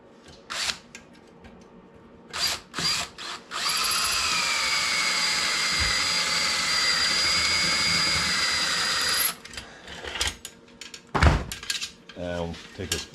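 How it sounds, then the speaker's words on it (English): A high-pitched power drill grinds into metal, drilling the head off a rivet on a 1963 Schwinn Traveler bicycle fender, for about six seconds, loud and close, framed by clinks and clatters of tools before and after. "We're just going to drill the head of this rivet off."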